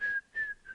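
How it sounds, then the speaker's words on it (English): A woman whistles a bright tune in three short phrases, the first two held and steady and the last brief and faint, with no talk around it. "She is whistling again."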